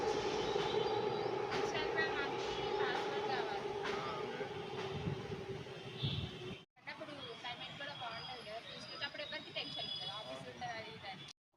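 Trains pass nearby with a steady rail rumble and rattle under ongoing conversation, then a brief break before more clatter and voices continue at moderate distance.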